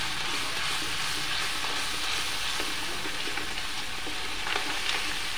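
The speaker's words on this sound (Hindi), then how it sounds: "खूब अच्छी तरीके से इनको भूनेंगे," Potato and pumpkin sabzi frying in oil with asafoetida, a steady close sizzle with scattered stirring scrapes throughout, no voices.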